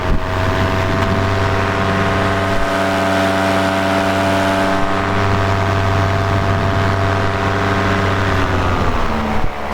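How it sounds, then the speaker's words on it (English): Paramotor engine fitted with a heavier propeller, droning loud and close with a steady, strained tone that rises slowly in pitch as it spins up. "It's a heavier prop, so it takes a minute to spin up"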